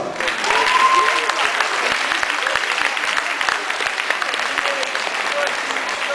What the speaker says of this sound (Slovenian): Verjamem, da se zaslužijo in velik aplavz.